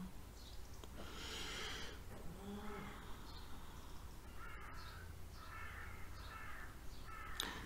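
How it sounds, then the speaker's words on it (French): Crows caw in the distance over a steady outdoor hiss, several hoarse calls spread through the clip, faint and far away with no one speaking. "Il y a des corbeaux au loin"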